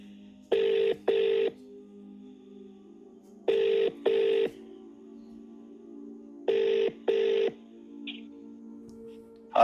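Telephone keypad tones sound in three separated pairs of short, clear beeps, each pair quickly repeated, over a faint steady background hum as a phone number is dialed.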